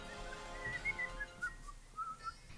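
A person whistles the Capcom theme melody alone, a short run of clear, bright notes at moderate loudness with brief pauses between phrases.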